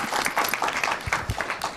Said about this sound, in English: let's give them first a big round of applause